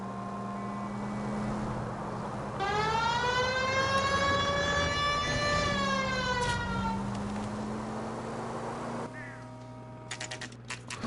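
Police car siren in L.A. Noire, a loud wailing tone rising and falling over steady engine and traffic noise, cutting off near the end as game sounds continue.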